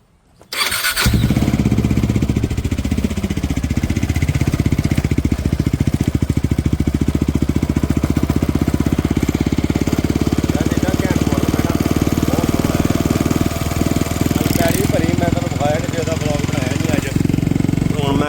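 A KTM motorcycle engine starts up abruptly after a moment of quiet, then runs loud and steady at a close, buzzing idle for the rest of the time, with voices now and then underneath.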